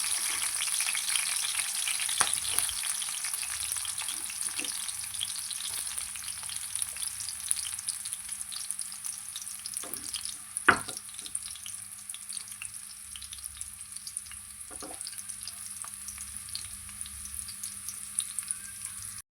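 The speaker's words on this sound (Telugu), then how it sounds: "ఉల్లిపాయలు లైట్ గోల్డెన్ కలర్ వచ్చే వరకు ఫ్రై చేసుకోవాలి." Onions frying in oil until light golden for a fish curry, a soft steady crackling sizzle punctuated by occasional spoon-against-pan clinks and stirring scrapes, fairly quiet and close.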